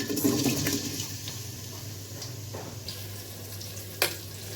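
Onions frying in a pot of hot oil for beef tehari give a steady sizzle, close and fairly quiet, with a few soft stirring scrapes and one sharp clink near the end.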